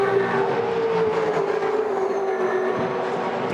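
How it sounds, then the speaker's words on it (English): A 2012 V8 Supercar engine at Bathurst holds a loud, steady high-rev drone near the rev limiter, constant and close throughout with no talk. "Almost getting to the rev limiter here before you get to Skyline, but not worth grabbing another gear."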